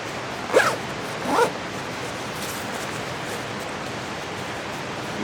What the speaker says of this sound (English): you can bring both zippers up evenly and leave it open